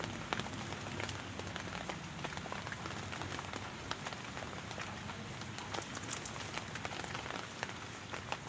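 Steady rain patters continuously on surfaces outdoors on a cold night, faint and even, with scattered drips standing out from the dense hiss and no voices.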